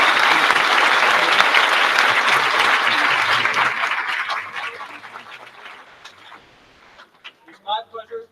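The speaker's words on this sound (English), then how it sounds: "Please join me in a round of applause for our middle school harmonizers and tonight's honorees" Loud, dense applause from an audience at a middle school moving-up ceremony fills the room, then fades away over several seconds before a voice begins speaking.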